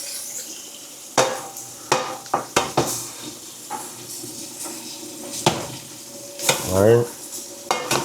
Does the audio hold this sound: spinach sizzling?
yes